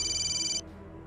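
Incoming-call phone ringtone chimes steadily for about half a second at moderate volume, then cuts off abruptly, leaving quiet room tone.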